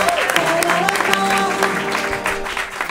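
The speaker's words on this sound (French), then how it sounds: "Vous avez vu les applaudissements nourris dès que je prononce votre nom?" Audience applause at a live show swells and holds steadily for about three seconds, with a dense patter of many hands, cheering and voices mixed in.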